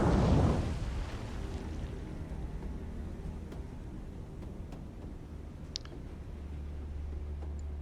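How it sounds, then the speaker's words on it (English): A torpedo strikes a ship in the naval combat game War on the Sea, with a loud low explosion up front that decays into a long rumbling roar and the low drone of the vessel. "So struck by a torpedo, the other one missed"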